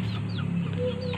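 A bird clucks softly and continuously, close by, in a brief steady stretch of low, fowl-like calls.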